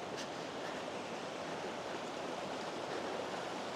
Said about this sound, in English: Beautiful little cascading falls, but just a great place to get your water